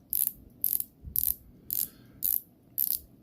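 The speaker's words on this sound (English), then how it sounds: "Very nice coin edge bezel. 120 click, unidirectional." Coin-edge unidirectional 120-click ceramic bezel on a Swiss dive watch turned in six short bursts of crisp ratcheting clicks, evenly spaced, close and alone with no talk.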